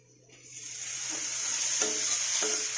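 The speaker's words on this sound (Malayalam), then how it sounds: "ഇനി ഇതിലേക്ക് നമുക്ക് തക്കാളി അരിഞ്ഞു വെച്ചിരിക്കുന്നത് ചേർക്കാം" Chopped tomatoes go into a hot pan for a vegetable curry, and a soft hiss swells from near quiet into a steady sizzle with faint stirring taps.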